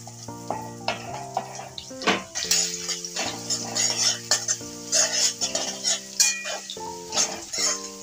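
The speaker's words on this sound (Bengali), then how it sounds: "পেঁয়াজটাকে আমি লাল লাল করে ভেজে নেব।" Chopped onion frying in a pan until reddish, with close sizzling and clinking, scraping stirring, heard under background music.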